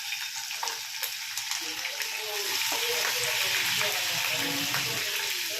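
Mustard seeds, cumin, curry leaves and finely chopped green chilli crackle and sizzle in hot oil for a Maharashtrian poha tempering, a close, busy stream of popping and frying hiss that grows louder partway through.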